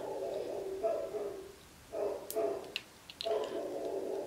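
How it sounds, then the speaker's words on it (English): A dog barks off-camera in a home during a makeup chat, three bursts spaced apart, moderately loud against a quiet room. "My dog is barking and it's just so rude."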